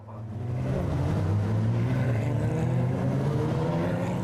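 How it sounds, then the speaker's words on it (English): Porsche Carrera Cup race cars set off on the green flag lap at the Nürburgring Nordschleife, a steady, loud blend of engines droning and building together, continuous with no talking. "The cars set off on their green flag lap in preparation for an incredible race here around the Nordschleife."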